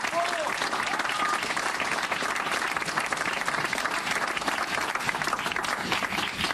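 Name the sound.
audience applause for the mayor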